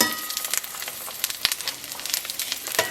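Lithuanian mushroom patties (kotletai) fry in a pan with a loud, close sizzle and sharp spatters and pops scattered across the whole stretch, without talk.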